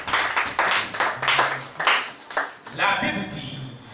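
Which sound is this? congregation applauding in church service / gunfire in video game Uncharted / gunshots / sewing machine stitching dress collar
congregation applauding in church service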